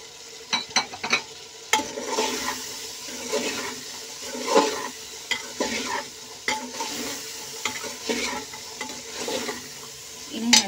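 Soya chunks and peas frying in a pan for vegetable soya pulao, with a soft sizzle under irregular stirring scrapes and spoon knocks against the pan, close by with no voices.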